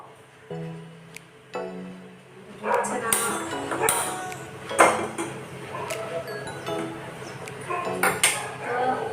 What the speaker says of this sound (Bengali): ডলের জন্য এখন আমি জিরে জল বসাবো